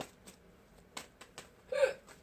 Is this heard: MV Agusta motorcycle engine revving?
no